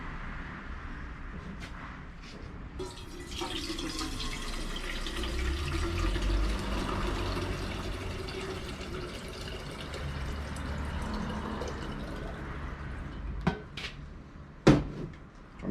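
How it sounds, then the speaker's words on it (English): Water poured into an old-fashioned coffee pot beside a campfire, a steady splashing fill lasting several seconds, followed by metallic clinks and taps of the pot. "I'm going to fill this up about halfway with water."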